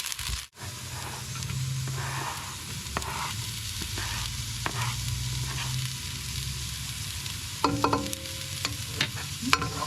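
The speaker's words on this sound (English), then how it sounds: "I'm going to turn it down a little bit and add the shallots now" Shallots sizzle and fry in a pan inside a Remoska Tria cooker in a motorhome, a steady close hiss broken by scrapes and clinks of stirring.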